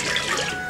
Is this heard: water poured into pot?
yes